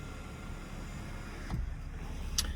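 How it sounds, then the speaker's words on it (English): The power sliding moonroof of a 2025 Acura Integra opens. A faint, steady motor hum comes from a quiet cabin, with a couple of sharp mechanical clicks near the end. "Power sliding moonroof."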